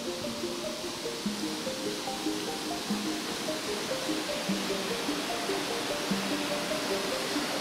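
Ak-Suu river water rushing steadily, a dense continuous wash of flowing water close by with no talk.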